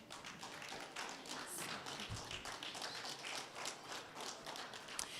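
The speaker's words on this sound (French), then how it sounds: "Est-ce qu'on peut applaudir plus fort que ça, quand même?" Applause from a church congregation thanking the worship team, a continuous wash of many hands clapping at a distance, fairly soft and steady with a few louder claps.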